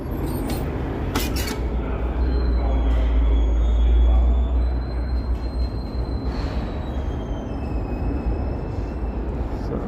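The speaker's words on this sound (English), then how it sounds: "So this is where you catch GO trains." GO trains on the tracks near Union Station in Toronto, a heavy low rumble that swells and fades with faint metallic squeals, heard amid busy station ambience.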